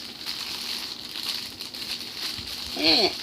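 Plastic packaging crinkles and rustles up close, with a sharper burst of crinkling near the end.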